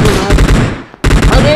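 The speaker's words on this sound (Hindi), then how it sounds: "पहाड़ों से गोलियाँ चल रही हैं" Rapid automatic gunfire in PUBG Mobile coming from the mountains, loud close bursts of rattling shots with a short pause between two volleys.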